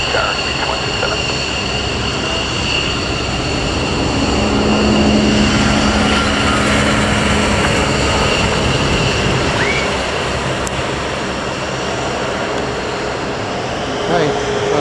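Four Lakenheath F-15 jets departing RAF Mildenhall, a loud continuous jet engine roar with steady whining tones that holds strong throughout, heard nearby with no talk over it.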